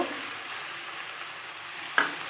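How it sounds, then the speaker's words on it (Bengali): A spoon stirs ground cumin and chili powder into chicken curry in a pan, giving a soft, continuous scraping sizzle with one sharper clink of utensil against metal near the end. "দিয়ে ভালো করে নেড়ে চেড়ে মিশিয়ে নেব"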